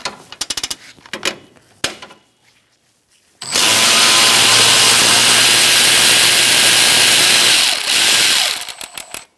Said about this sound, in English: And now we're going to disconnect this bolt back here.